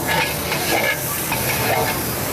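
Chicken pulao masala roasts in about two litres of oil in a large cooking pot as it is stirred, with a loud continuous sizzling hiss and scraping from the stirring.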